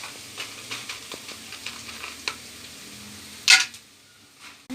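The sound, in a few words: onions, ginger-garlic and spices frying for bagara rice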